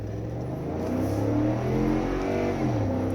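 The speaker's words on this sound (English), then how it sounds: "Okay, so we just got tow haul on, and we're going to try it out again." A 2011 Ford F-150 with the 5.0L engine accelerates hard in tow/haul mode, its engine note rising in pitch and then shifting down as a gear change occurs, loud and steady throughout.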